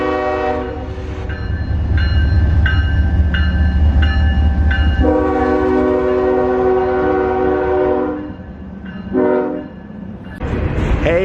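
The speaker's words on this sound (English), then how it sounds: "appears to be a massive train going down the middle of the street." A massive train rumbles down the middle of a street nearby with a loud low drone, sounding repeated horn blasts, long and short, over the heavy rolling noise.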